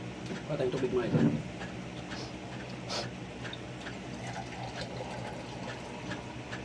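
Water pours into a pot for boiling pork with garlic, a short splashing fill in the first second and a half, then a quiet steady background with a click.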